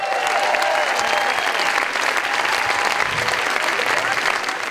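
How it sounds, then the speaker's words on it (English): An audience at a beatbox show claps and cheers in a steady, loud wash of applause that fills the whole stretch, with a faint voice rising briefly above it. "give it up for my friend Lytos, the Empire of the Mic 2010."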